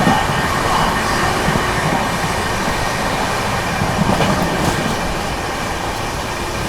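Maharashtra Sampark Kranti Express speeding through Bilimora junction, a loud, steady roar of rushing carriages with rail clatter sustained throughout, close by, with no talking.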